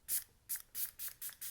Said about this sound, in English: I'm gonna do a little bit of setting spray